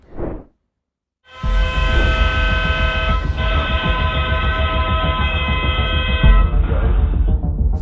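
A tram in Kayseri, Turkey sounds its horn with a sustained, loud, tonal blast while passing close by, the rumble of rail wheels underneath, after a short faint noise and brief silence.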